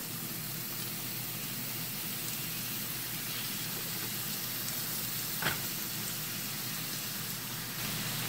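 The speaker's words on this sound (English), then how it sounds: "Got pork chops completely covered, and now let's get them into the pan." Pork chops sizzle steadily in a frying pan, a continuous soft hiss and crackle with a brief sharper pop midway, heard alone at close range.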